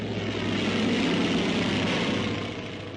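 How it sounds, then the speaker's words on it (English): A WWII Navy SB-2C dive bomber makes a jet-assisted (JATO) takeoff, a dense broadband roar of propeller engine and rocket thrust that stays loud and steady before easing slightly at the end. "JATO gets these SB-2Cs aloft in a flash in the Pacific, where every second counts."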